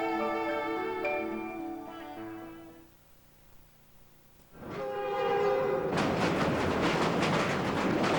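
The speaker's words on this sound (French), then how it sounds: "Voyage à bord des trains de Via Rail." A Via Rail passenger train sounds its horn in sustained tonal blasts, then rumbles loudly past with rolling rail noise that swells and stays close through the end.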